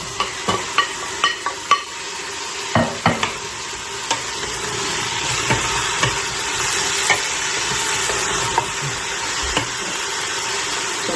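Onion fries in a pan with a continuous soft sizzle, broken by a string of sharp clacks and scrapes from stirring, heaviest at the start and then thinning out.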